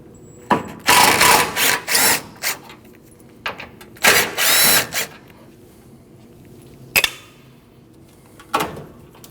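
A power tool spins out two T30 Torx bolts holding the transmission cooler on a Nissan NV2500 van, loud in short bursts of whirring separated by quiet pauses and small clicks.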